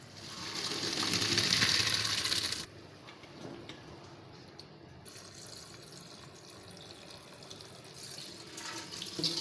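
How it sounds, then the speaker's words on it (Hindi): Water pours out of a pot of boiled macaroni as it is drained, a loud rushing splash for about three seconds that drops to a softer, steady trickle. "अब हम इसका सारा पानी ड्रेन कर लेंगे।"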